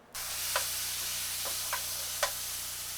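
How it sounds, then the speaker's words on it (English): Sliced peppers hitting hot oil in a pan give a quiet, steady sizzling hiss, broken by a few faint clicks and taps of a utensil. "I'm going to put a little oil in the pan."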